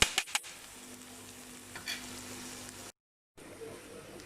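Ginger garlic paste frying with onion and masala in a pan for a mutton mince curry: a soft, steady sizzle opening with a few sharp stirring clicks, with a short silent gap near the end.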